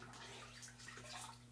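A paintbrush swished in a water cup while painting a coaster, a faint steady sloshing and trickling with no voices, under a low constant hum.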